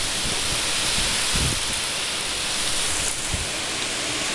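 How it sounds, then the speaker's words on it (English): Steady, loud roar of strong Typhoon Hagibis wind in 2019 in the Mie mountains, Japan, with broadband rushing noise and a few heavier gusts around a log house; no voices. "the wind is getting pretty ridiculous"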